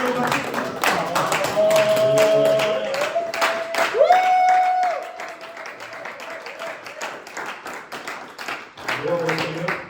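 Church congregation applauding for a visiting apostle, steady dense clapping with crowd noise and a sustained tone or voice over it, fading lower midway before picking up again.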